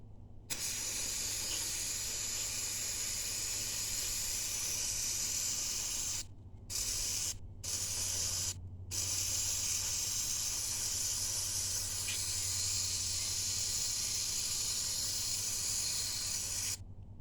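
An aerosol cleaner sprays down the magnet from a 700R4 transmission filter pan on a 1988 GMC 5.7. It makes a loud, close, continuous hiss with three brief pauses midway, and no voices.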